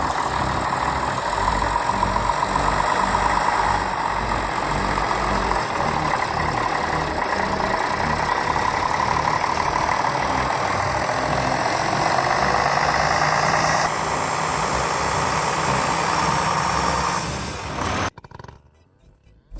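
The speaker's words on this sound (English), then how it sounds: "The original engine note echoes through the forest" A heavy logging machine that shreds trees into chips runs its engine steadily in a forest, giving a loud, continuous rumble for about eighteen seconds before it abruptly cuts off into near silence.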